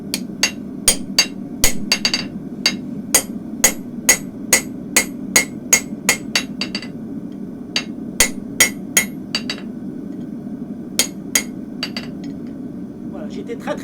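A forging hammer's ball strikes hot metal while a horse head sculpture is shaped, a close, steady run of about thirty sharp, ringing blows in quick, even rhythm with short pauses between bursts.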